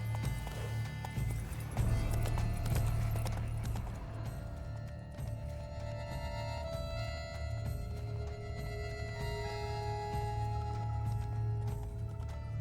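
Steady clip-clop of horse hooves at a run in the video game The Witcher 3: Wild Hunt, with a rumbling low drone and ambient music tones underneath, no talking.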